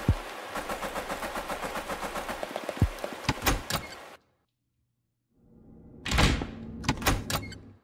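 A door opens in the video game Pocket Mirror: a mechanical, rattling clunk with a rapid ratcheting rhythm, then a brief silence, followed by a second burst of sharp creaks and knocks, loud and close with no talk.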